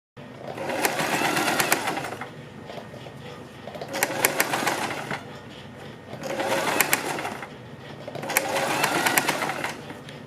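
A sewing machine runs along a kurti neckline edge in four steady buzzing bursts, each several seconds long with short gaps between them, heard fairly close.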